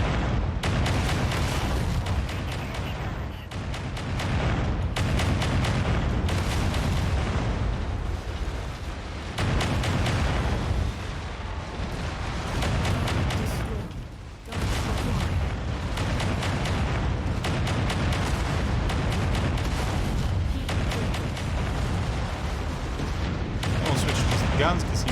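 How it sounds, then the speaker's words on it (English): Missiles and weapons fire from giant combat mechs in MechWarrior 5: Mercenaries, a dense, continuous barrage of booms, bursts and explosions throughout, with a voice talking over the loud battle noise. "We'll just get a few missiles tossed in on him while we walk in."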